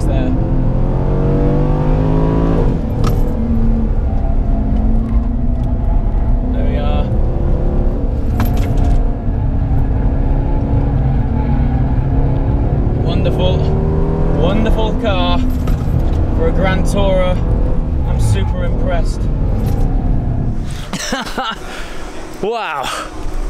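The V8 engine of an Aston Martin DB11 Volante drones steadily from inside the car as it drives, with rising and falling revs under frequent talk, along with clicks and rattles and a burst of wind near the end.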